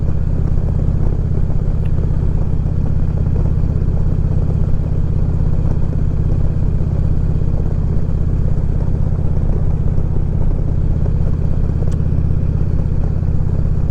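Motorcycle ridden on a cold day, a loud constant low engine drone with heavy rumble, steady and close throughout with no talk.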